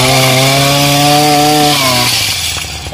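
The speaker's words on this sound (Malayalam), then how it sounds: "നമുക്ക് ബ്രഷ് കട്ടർ ആക്കി ഉപയോഗിക്കാം." A multipurpose brush cutter machine runs at a loud, steady high-pitched whine close by, its engine pitch dipping slightly near the end as it settles.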